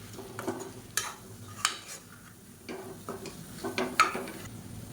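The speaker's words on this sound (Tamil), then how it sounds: "பொடி சேர்த்துட்டு நல்லா எண்ணெயில் வதக்கியாச்சு" Chilli powder sautéed in oil in a pan for a radish and egg kuzhambu, heard as scattered scraping and clinking stirring strokes over a faint background sizzle, with no talking.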